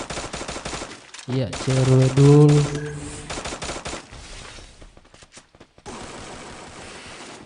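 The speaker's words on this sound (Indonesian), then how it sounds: "di situ terjadi atau terdengar suara tembakan." Rapid bursts of automatic gunfire in a Free Fire esports match, cracking volleys mixed with game effects and a tonal jingle, while a commentator talks over the action.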